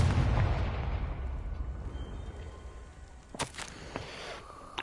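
A Confringo fire spell cast in the Hogwarts Legacy video game: a loud, heavy explosive blast opening the clip, its rumble decaying over a couple of seconds, followed by a few sharp crackling bursts.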